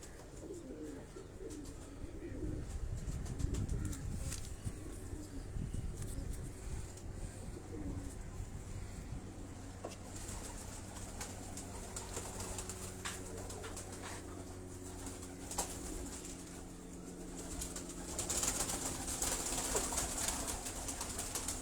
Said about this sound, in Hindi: ये नर कबूतर है जौसरा जो मैं आपको दिखा रहा हूँ।